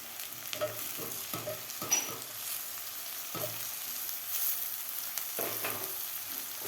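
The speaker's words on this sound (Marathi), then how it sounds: "टोमॅटोसुद्धा आपल्याला 1 मिनिटभर व्यवस्थित परतून घ्यायचं आहे" Tomatoes sautéed with spring onions for a mixed-vegetable khichdi, a soft steady sizzle broken by repeated spoon scrapes and knocks against the pan, close and fairly quiet with no talking.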